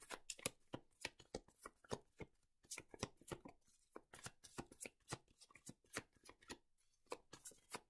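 Tarot cards are shuffled by hand in a quick, irregular run of soft riffling taps and flutters. It is quiet and close, with no speech.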